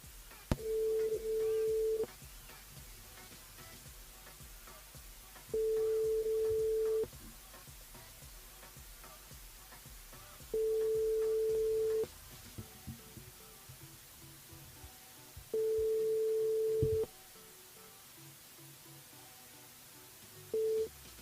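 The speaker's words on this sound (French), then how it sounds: "le numéro que vous avez composé n'est pas attribué" A telephone ringing tone sounds on a call to an unassigned number, four long even tones separated by gaps of a few seconds, with faint background noise between them.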